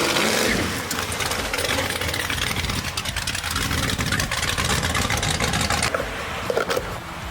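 A V8-swapped Jaguar running on a mix of 87 and 93 octane fuel while cruising, giving a steady, loud engine drone with broadband road rumble throughout.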